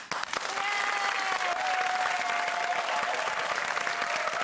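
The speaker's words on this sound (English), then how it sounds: "Can we also have a round of applause for all the special guests that came around for Christmas this year" A studio audience at a Christmas episode of a TV music quiz show bursts into sustained, dense applause that stays loud and steady throughout, close and enveloping with no talking over it.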